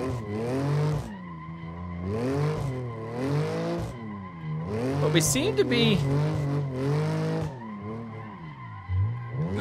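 A BMW M3 Competition G80, a stock, non-prepared car, drifts with long wailing tire squeals that rise and fall in repeated sweeps over the engine note, while someone talks over it.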